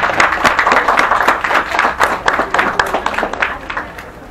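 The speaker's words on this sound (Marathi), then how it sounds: "टाळ्या वाजवायला कमी पडू नका विनंती आहे" An audience claps at a film poster launch event, dense, lively applause of many hands rising and falling steadily for several seconds, fairly close and loud, with no talking.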